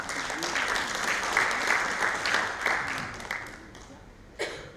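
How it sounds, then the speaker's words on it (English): Audience applause at a tourism industry forum in Indonesia, a sustained round of many hands clapping in a hall, fading toward the end with a final louder burst. "Please give them a round of applause."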